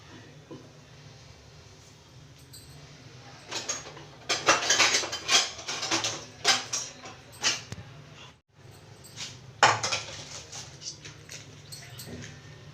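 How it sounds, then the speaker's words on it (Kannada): Metal cookware clatters as a frying pan is set on the stove for tempering while making bisibele bath, with several sharp clanks and scrapes bunched in the middle and near the end over a low kitchen background. "ನಾನೀಗ ಒಗ್ಗರಣೆಗೆ ಬಾಣಲಿ ಇಟ್ಕೊಂಡಿದ್ದೀನಿ"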